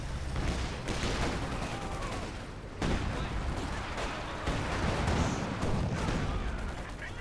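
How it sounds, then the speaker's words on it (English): A battle in the video game Company of Heroes 2 rumbles with a demolition charge and rapid gunfire, dense overlapping blasts and shots that stay loud and continuous. "There we go, demo charge finally comes good."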